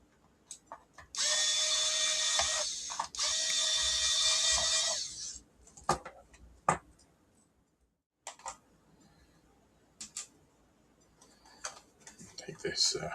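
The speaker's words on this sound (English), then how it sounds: "So I've got my little Aramax electric screwdriver here." Little Aramax electric screwdriver whirring in two sustained bursts of about two seconds each while unscrewing a small 200 g scale, followed by scattered clicks and handling taps of the casing.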